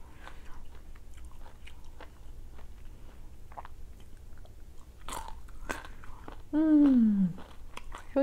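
Crisp fresh mango is bitten and chewed up close in a series of irregular crunchy bites, with a brief voice-like sound near the end.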